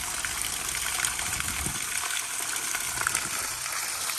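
Water from a roof tank drains through a long house pipe in a steady, rushing gush with a faint trickling texture, continuous and fairly close, no voices.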